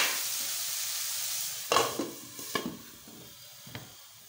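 Radish and tomato cooking in a pan for a Rajasthani chutney, with a steady soft sizzle broken by several louder stirring scrapes and clatters close by.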